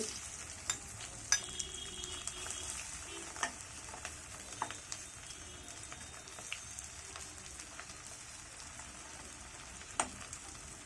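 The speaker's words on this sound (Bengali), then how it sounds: "সরিষার তেলের ভিতরে চিংড়ি মাছ দিলে অসাধারণ একটি ফ্লেভার বের হয়" Shrimp frying in hot mustard oil, a faint, steady crackling sizzle like light rain with occasional sharp pops and spatters, heard at a distance without talk.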